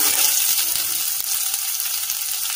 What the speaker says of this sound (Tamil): இப்போ இந்த ஸ்டார் அனாசிஸ், பட்டை, ஏலக்காய், கிராம்பு இதையும் போட்டு நல்லா வதக்கலாம் ஒரு ஒரு நிமிஷம்